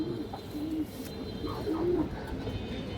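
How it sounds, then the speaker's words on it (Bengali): Silver female pigeons coo in low, rolling phrases close by, repeating over a steady background hum. "দেখেন কত সুন্দর কবুতর"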